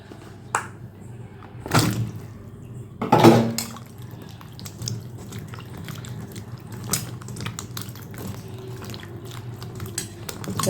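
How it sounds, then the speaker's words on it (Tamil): Mushrooms are rinsed in water in a home kitchen, with two splashy sloshes near the start followed by soft drips and light water movement, close and fairly quiet. "இப்போ வந்து நான் இந்த காளானை வந்து ஃபஸ்ட்டு நம்ம ஒரு வாட்டி தண்ணியில் போட்டு எடுத்துக்கலாம்"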